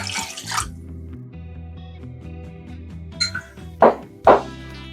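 Water runs from a tap into a pan for a one-pan chicken and rice casserole, a steady stream with shifting pitch, followed by a few louder splashes and clunks near the end.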